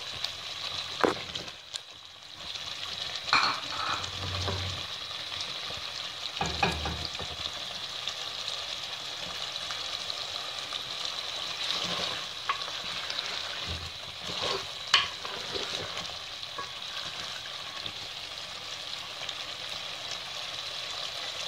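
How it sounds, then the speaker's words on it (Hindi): Chicken karahi fries in oil in a pan, giving a continuous sizzle with a few stirring scrapes and bubbling bursts, heard alone at moderate loudness with no talk. "इसके थोड़ी देर और फ्राई होगा ये"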